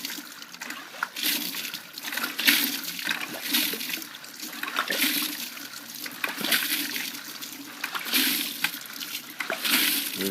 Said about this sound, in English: you can see the water going down through it